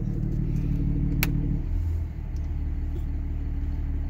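A diesel truck engine idles steadily with a low rumble, its deeper throb easing and shifting about halfway through as the exhaust brake is switched off, then settling into a smooth, constant idle.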